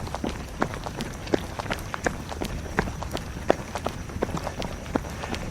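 A runner jogging along a path in an ecological park, with quick, regular footfalls that sound fairly faint against a steady outdoor background, no one speaking.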